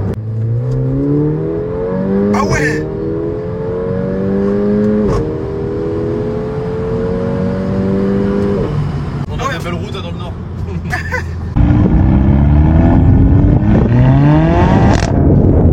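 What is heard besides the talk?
Mercedes A45 AMG engine revving while accelerating hard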